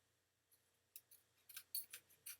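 Scissors trim a paper card panel with a series of quick, crisp snips that grow louder and more frequent toward the end, close up and quiet with no talking.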